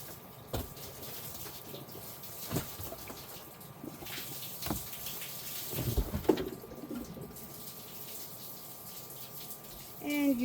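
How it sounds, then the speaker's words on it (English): Water drains out of a box tipped on its side, trickling and splashing steadily nearby, with a few sharper drips and glugs standing out, and a brief louder gurgle near the end. "And you can hear the water running out."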